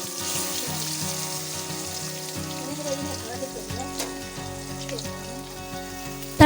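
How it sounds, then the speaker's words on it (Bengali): Hilsa fish pieces fry lightly in hot oil with a steady, close crackling sizzle and scattered spitting pops running throughout, no voices. "ইলিশ মাছ বেশিক্ষণ ভাজবো না, হালকা করে ভেজে নেব"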